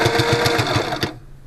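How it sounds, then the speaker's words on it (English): A Sailrite walking foot sewing machine stitches fabric for bike pogies with a fast, even, loud mechanical thumping rhythm close by, then halts abruptly. "I'm just gonna do some sewing, back stitch a bit to lock it in place,"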